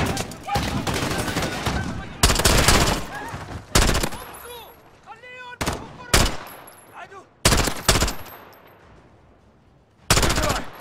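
Bursts of rapid automatic gunfire in Call of Duty: Modern Warfare, loud and close, alternate with brief lulls, with voices and chaotic game action mixed in.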